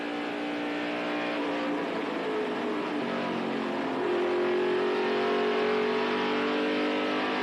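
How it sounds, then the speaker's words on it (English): Roof-mounted in-car camera aboard a NASCAR stock car at Atlanta during the 1994 race, a loud steady engine roar at high revs with shifting pitch as the car accelerates, plus wind rush, no voices. "Get a look from our in-car camera, our roof cam, real time, Bobby Bowser's view, and take a listen."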